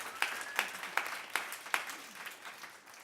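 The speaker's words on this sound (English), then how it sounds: "A round of applause for our panelists, if you will." An audience applauds panelists at a youth forum discussion. The clapping is steady and moderate, with a few louder claps standing out, and it fades gradually.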